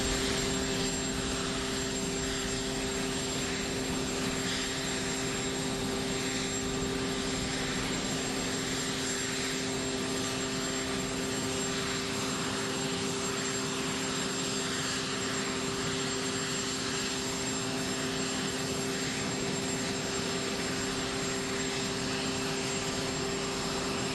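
Airplane engines idle steadily as an official aircraft arrives, a loud constant whine and roar with no change throughout and no voices.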